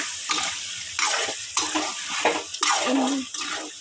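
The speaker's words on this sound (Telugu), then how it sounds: "ఇప్పుడు అన్నీ వేసేసిన ఒకసారి కలిపేస్తా" Mutton fry with coconut powder being stirred in a pan, a spoon scraping and tossing the meat in repeated strokes over a steady sizzle, close and fairly loud with no talk.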